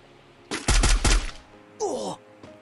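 A rapid burst of Free Fire gunfire rattles loudly for under a second, followed by a brief separate game sound.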